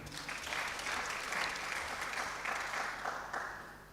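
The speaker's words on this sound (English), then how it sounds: "can we clap for this young man?" Audience at a mental health summit claps for a young man after his testimony, dense continuous applause with distinct hand claps, fairly close and steady throughout before tapering slightly at the end.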